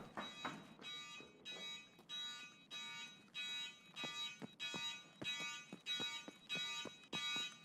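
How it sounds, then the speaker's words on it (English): In SPT Tarkov, an alarm sounds in repeated short electronic bursts, an even pulsing beep about four times a second, heard at a distance and fairly faint, with some soft thuds underneath. "The stupid alarm."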